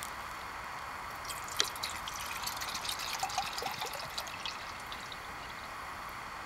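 Water pours into a 908 Cook Kit camping pot, a soft hissing stream broken by scattered drips and small splashes, close and fairly quiet, with no voices.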